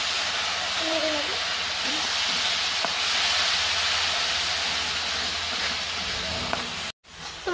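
Spice paste sautés in a black iron wok with a splash of water, giving a continuous, even sizzling hiss that cuts off abruptly near the end.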